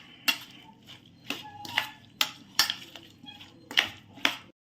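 Potatoes mixed with masala in a metal pot, a series of about nine distinct clanking and scraping strokes of a spoon against the vessel at a steady, unhurried rhythm, fairly close.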